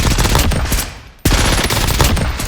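Automatic weapon fire in Warzone, loud rapid bursts of gunshots, with a brief pause midway before another sustained burst resumes.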